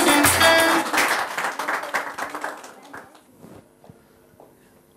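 A studio audience at a televised music show claps loudly at first, then the applause thins and fades to a few scattered claps.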